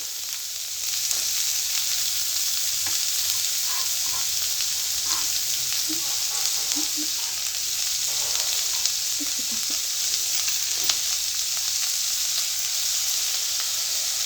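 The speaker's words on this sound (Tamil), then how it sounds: "இப்போ இது நல்லா ஃப்ரை ஆகிட்டு இருக்குது." Onion and cabbage for egg rice fry with salt in a pan, making a continuous close sizzle, with occasional soft stirring clicks and pops coming through.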